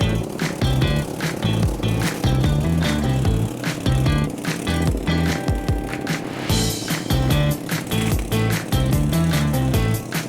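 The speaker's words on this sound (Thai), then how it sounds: "จะมารีวิวการตัดหญ้าของรถ ตัดหญ้า11แรงฮอนด้าอีกหนึ่งคันค่ะ" A small Honda 11 hp riding lawn mower cuts grass with a loud, continuous, close engine drone and a rhythmic, churning texture from the spinning blade.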